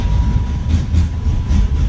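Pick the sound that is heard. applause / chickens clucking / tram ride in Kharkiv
tram ride in Kharkiv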